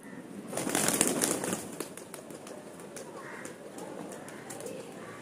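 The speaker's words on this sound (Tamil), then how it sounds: "புறா நான் இப்போ கீழே விட்றேன் பாருங்கள்" Pigeon being released by hand, with soft flapping and brief cooing-like bird sounds near the start, settling into quieter rustling over steady low background noise.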